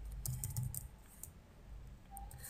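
Someone types on a computer keyboard while setting up an SQLite database, giving quiet scattered key clicks at an irregular pace with no talk over them.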